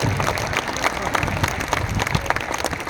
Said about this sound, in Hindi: आपकी तालियां कमजोर है